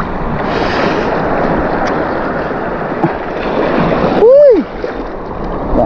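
Out at sea, steady wind and water wash surround a small fishing boat, with a brief heavier thump of a wave near the end, and a man exclaims briefly.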